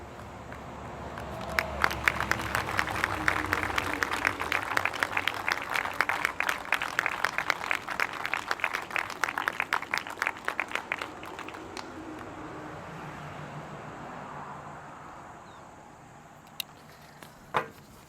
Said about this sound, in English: can we give them another round of applause for all of this?